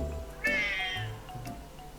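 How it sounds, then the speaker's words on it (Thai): A small cat meows indoors, one clear drawn-out meow followed by softer short calls, fairly close. "แมวมาแล้ว"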